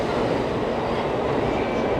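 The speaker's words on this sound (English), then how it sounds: "here goes another Shinkansen on its way out" A Shinkansen bullet train pulling out of a Tokyo station, a steady loud rushing roar of rail noise that holds evenly for a couple of seconds without pause.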